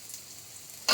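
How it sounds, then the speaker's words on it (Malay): Garlic, shallots and lemongrass sauté in a hot pan with a steady, close sizzle that swells into a louder burst of frying at the very end. No voices. "Tumis dulu bawang putih, bawang merah, serai sikit."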